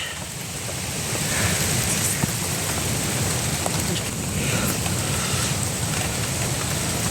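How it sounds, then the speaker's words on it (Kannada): Heavy rain falls in a forest, a steady, dense hiss that stays loud and even throughout, with no voices. "ಫುಲ್ ಮಳೆ ಬರ್ತಿದೆ"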